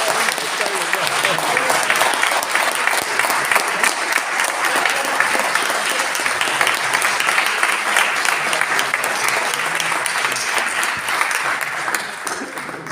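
Sustained audience applause at a presentation of a euthanasia law, a dense, even wash of clapping that holds steady and fades slightly at the end, with possible faint voices underneath.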